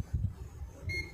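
A multimeter switched to its continuity beep setting, used on a smartphone power-key circuit, gives a short steady electronic tone near the end, over low handling thumps and bench noise.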